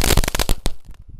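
Firecracker fountain from an assortment of Indonesian fireworks crackles in a dense burst of rapid sharp pops, loud and close, then thins to scattered faint snaps.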